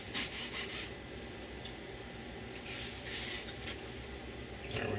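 Knife slicing half-frozen pork belly in a home kitchen, cutting the slices in half: a steady close rasping, rubbing stroke sound with a few sharper bursts, no talk.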